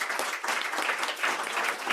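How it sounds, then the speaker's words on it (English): An audience at a panel talk on telling other people's stories applauds the panelists, a dense, steady round of clapping from many hands throughout. "Big round of applause for all the panelists."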